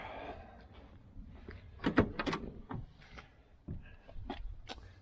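The door of a 1968 Chevelle Nomad under restoration gives quiet clunks and latch clicks as it is worked open and shut, with a few sharp knocks near the middle, set in a soft room hum.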